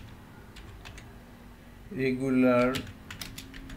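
Keys clatter in soft, scattered clicks on a computer keyboard during software setup work, with a brief spoken word breaking in midway before the light tapping resumes.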